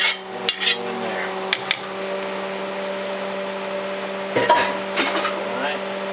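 Jambalaya with sausage juices being stirred in a pot, a few scraping clinks of a spoon against metal at the start and near the end over a steady low hum, close by and without talk.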